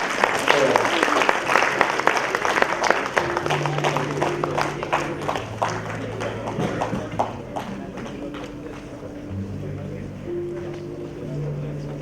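An audience claps at an FKCCI celebration marking five years of GST, with dense, scattered hand claps that start strong and taper off gradually, mixed with a low murmur of voices.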